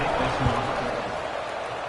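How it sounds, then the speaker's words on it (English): Crowd in a stadium at a college football game in the NCAA 26 video game, a steady dense roar of many voices that holds level throughout, with no speech over it. "this crowd is buzzing after that last score"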